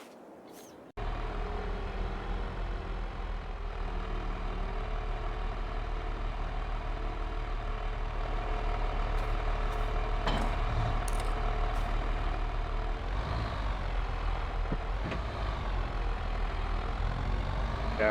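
A tractor or combine engine in a farming simulation game starts up and then runs with a steady low rumble, growing slightly louder, with a few brief mechanical clicks and clunks over it.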